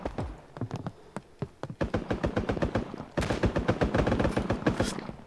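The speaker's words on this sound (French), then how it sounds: "Ah non, on nous tire dessus." Rapid bursts of video-game gunfire in a battle royale match, sharp repeated shots crackling in quick succession and growing denser and louder toward the end, with no voices over them.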